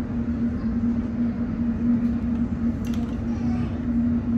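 Interior of a moving train heard from near the rear car: a steady low rumble with a strong constant hum, continuous and fairly loud, with a brief faint high clink partway through and no talk.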